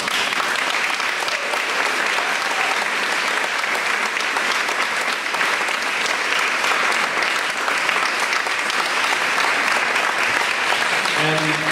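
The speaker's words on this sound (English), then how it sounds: "I want another round of applause as we show each tier." Sustained audience applause at the Pink Dot 10 ambassador and campaign video launch event, dense and steady clapping from a large indoor crowd throughout, with a voice starting to speak near the end.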